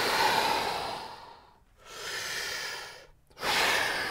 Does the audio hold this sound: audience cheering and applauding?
no